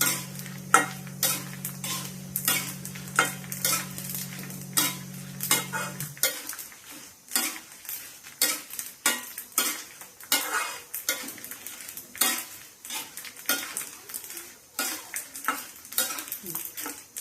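Metal utensil repeatedly scrapes and clinks against a pan while roasting fenugreek and spices for menthikaram curry powder, in an irregular rhythm, with a steady low hum for the first few seconds, no voices.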